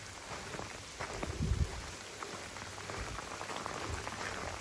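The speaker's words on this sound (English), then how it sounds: "Yeah, it's freaking raining." Steady rain falls at a campsite in Inks Lake State Park, a dense even patter with a few louder close drops, no talk.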